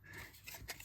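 Scissors snip through sturdy craft card in a quiet room, giving a brief, faint scraping cut with a couple of small clicks at the end.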